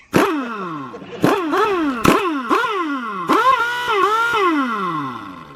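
Pneumatic impact wrench spinning lug nuts off a large RV wheel, several loud, sharp revving bursts with rising and falling whine, close and dominant, alone without talk.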